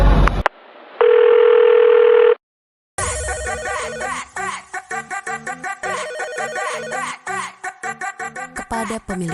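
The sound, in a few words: telephone call ringing tone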